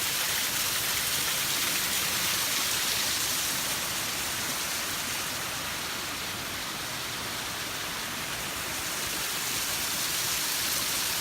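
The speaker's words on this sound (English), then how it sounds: "It's a lovely little waterfall here." A small waterfall in a mountain valley in Glencoe pours in a steady, close, broadband rush of falling water, even and unbroken throughout with no voices.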